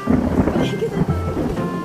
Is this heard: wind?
yes